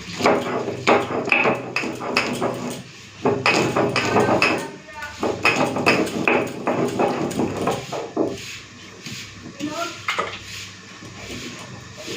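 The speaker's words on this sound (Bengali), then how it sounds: "শুধু এই মশলাটা বেটে নিই তারপরে নামিয়ে ফেলবো" Spices being ground on a grinding stone, a rapid, rhythmic run of hard scraping and knocking strokes, close and loud, easing into sparser scrapes toward the end, with a voice speaking at times.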